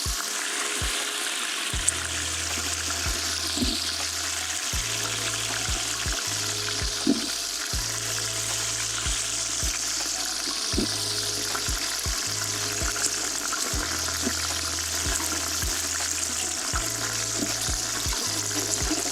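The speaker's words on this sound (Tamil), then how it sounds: "பொன்னிறமாக வணங்கணும். வெங்காயம்" Onions for goat leg soup frying in a pan until golden, a soft, continuous sizzle with occasional stirring scrapes and clinks at a moderate distance; no voices.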